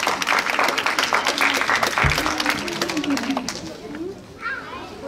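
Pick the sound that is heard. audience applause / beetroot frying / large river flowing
audience applause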